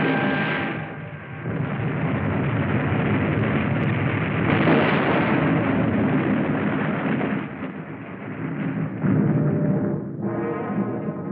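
Depth charge explosions against a WWII submarine in the Pacific, a continuous loud, rumbling roar of blasts with sustained thunderous reverberation and no speech.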